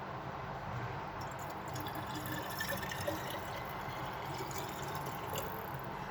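Water poured into the tank of a DeLonghi coffee machine, a steady, continuous filling rush that stays even throughout, with no one speaking.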